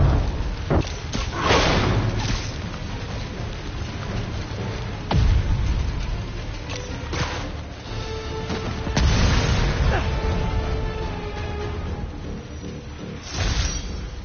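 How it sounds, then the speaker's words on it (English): Tank explosion in the Spider-Man PS4 video game, heavy booms and rumbling blasts spread through a chaotic stretch with a few low, indistinct voices under the din. "Tank's gonna blow!"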